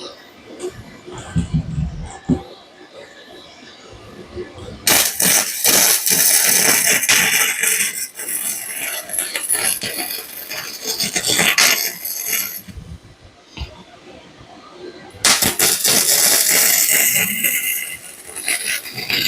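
MIG welding on brackets produces long stretches of loud, harsh crackling hiss, broken by a brief pause before a second run, with quieter rustling and handling sounds at the start.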